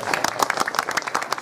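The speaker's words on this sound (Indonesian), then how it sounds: "Tepuk tangan yang meriah." A crowd at a sholawat religious gathering breaks into lively applause, close and energetic clapping from many hands over a short burst, with some voices mixed in.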